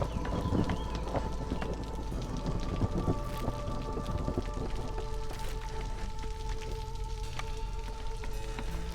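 Steady storm rain pours in the video game Against the Storm, a dense continuous wash with scattered droplet ticks and a low rumble, held at an even level alongside faint tonal game sounds.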